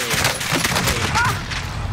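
Dense bursts of gunfire from a first-person shooter multiplayer lobby, with an M4A1 rifle in play, rattle loud and continuous over the whole moment, layered with shots from several directions.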